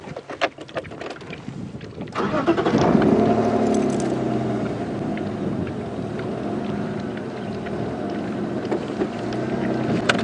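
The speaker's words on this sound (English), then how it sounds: "Okay, I'm just going to move the car a little bit further back." A safari vehicle engine starts up, then idles and drones steadily while moving, with wind buffeting the microphone; a few clicks and knocks come before it.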